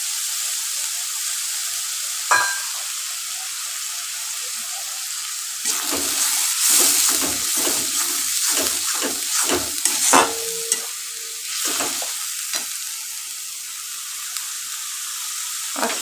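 Onions frying in a pan for Hyderabadi khatta dal make a steady close sizzle, broken midway by bursts of scraping and stirring before settling back into hissing, with no voices.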